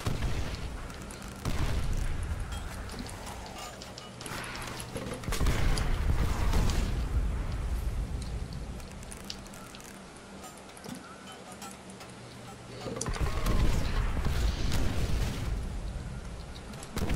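Gersh Device grenade going off in a Call of Duty custom zombies map, deep booming bursts around two and fourteen seconds over steady game noise and talking voices.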